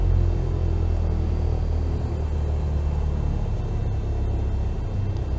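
A light aircraft engine idles at 800 RPM after being throttled back, a steady, close low drone and rumble that holds evenly throughout with no voices.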